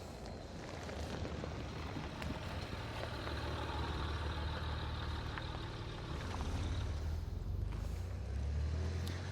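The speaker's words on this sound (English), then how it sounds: "car's coming." A car goes past a rider on a BMW F900GS motorcycle, with a low engine rumble swelling over steady wind and road noise and rising toward the end of the stretch.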